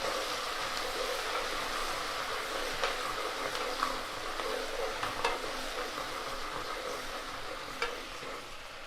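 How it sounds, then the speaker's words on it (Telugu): Ginger-garlic paste and a spoon of garam masala frying in a pan for plain biryani, a steady, soft sizzle with intermittent stirring scrapes and light clicks throughout, fairly quiet and without voices. "గరం మసాలా వన్ స్పూన్ ఈ అల్లం వెల్లుల్లి పేస్ట్ కొంచెం పచ్చిదనం పోయే వరకు కొంచెం వేయించుకుందాం"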